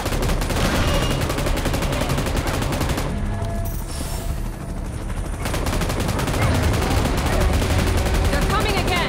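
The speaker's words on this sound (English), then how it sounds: "तो चलिए गाइस अभी इस पर फायर करना स्टार्ट करते हैं" Dense, sustained gunfire in PUBG Mobile's Titans Last Stand mode, a steady barrage of shots with a brief thinning in the middle before the firing resumes at full loudness.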